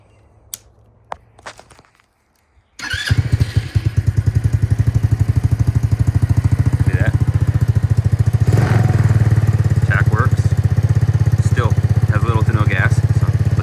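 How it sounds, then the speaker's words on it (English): A free secondhand motorcycle from an online marketplace clatters and thumps through a few faint sounds, then fires up near 3 seconds and settles into a loud, steady idle with a throbbing low rumble, while a few brief voices break in over it. "I'm gonna start it up and we'll take it for a spin"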